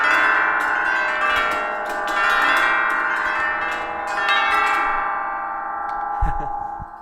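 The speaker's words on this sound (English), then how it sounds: "scrape the top and bottom rows of chimes in opposite directions with the pedal down" Mallet-section chimes scraped across the top and bottom rows in opposite directions with the sustain pedal down, a bright shimmering cascade of overlapping ringing tones that swells and lingers, loud and close, with a low thump near the end.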